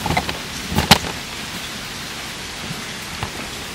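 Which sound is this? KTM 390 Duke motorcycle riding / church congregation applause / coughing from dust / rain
rain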